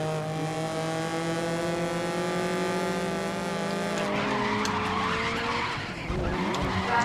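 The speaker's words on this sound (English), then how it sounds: "Just drifting my Lancia." A Lancia drifting in the GRID racing game: a sustained engine drone under long tire squeal, shifting into a rougher skidding scrape partway through, loud and close.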